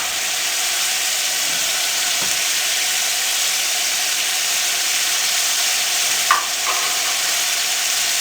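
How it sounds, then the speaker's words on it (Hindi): Vegetables stirred and frying in spiced masala for a vegetable pulao, a loud steady sizzle and hiss close by, with one brief clatter of a utensil, no talk. "अब इसमें हम तमाम वेजिटेबल इसमें ऐड कर देंगे।"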